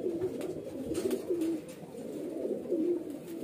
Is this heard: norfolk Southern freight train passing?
no